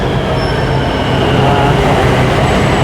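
A BTS Skytrain in Bangkok arriving at a station: a loud, close, steady rumble with a high wheel squeal, and faint voices murmuring beneath the train noise.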